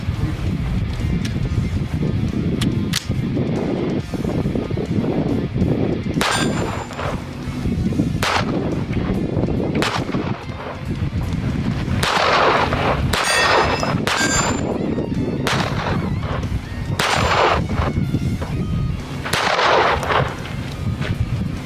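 A GSG 1911 .22 caliber pistol fires repeatedly on an outdoor range, each sharp crack followed by the clang of steel targets ringing, in irregular bursts amid steady background noise.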